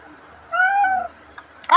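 A house cat lets out one clear, close meow lasting about half a second, followed by brief quiet and a short sharp burst of noise at the end.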